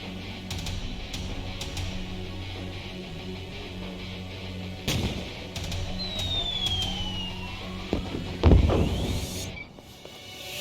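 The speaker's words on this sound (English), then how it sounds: "How about some explosions?" Explosions and gunfire from the video game Lost Judgment on Xbox Series X, a steady bed of game sound with a sharp burst near the middle and a heavy, loud blast near the end, with no talking.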